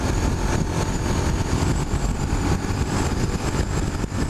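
Suzuki SV650 motorcycle engine running steadily in third gear at about 6,500 RPM, a continuous close, loud drone with no break.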